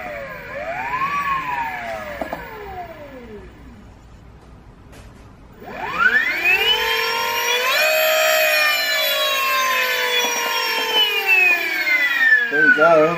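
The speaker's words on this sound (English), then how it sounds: "see if we can spin the motor. We have ignition." Electric motor on a 50 kW supermoto build being spun up. Whining tones sweep up and down at first, then a loud, high, layered whine climbs sharply and holds steady, wavering slightly as the motor keeps spinning.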